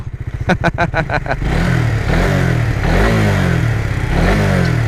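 A Suzuki GSX-R 150 ABS motorcycle engine cranks with rapid clattering pulses, catches and settles into a loud, deep, throbbing exhaust idle with slight revs.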